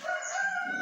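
Wild chickens with a rooster crowing, a sustained nasal call holding steady for under a second, fairly close and clear with no talk over it.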